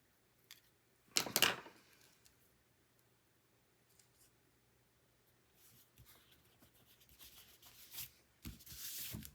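Paper trimmed with a Creative Memories Custom Cutting System for a scrapbook mosaic layout, giving a sharp close cutting swipe followed by quieter sliding and rustling strokes in a mostly quiet room.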